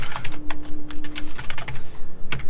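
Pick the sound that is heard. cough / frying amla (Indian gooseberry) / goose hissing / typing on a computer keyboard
typing on a computer keyboard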